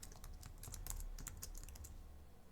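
Quiet, rapid clicking of a computer keyboard, a steady run of light keystrokes over a low background hum.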